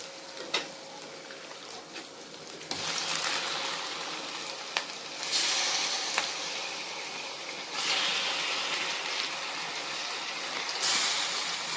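Chicken pieces sizzling in a hot pan for pepper chicken, a steady broadband hiss that swells in loud surges as the meat hits the oil and settles, with no talking over it.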